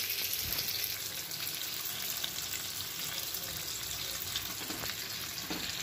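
Unniyappam sizzling steadily in oil in a non-stick pan after being flipped, a dense continuous frying hiss with faint scraping and bubbling, close and alone.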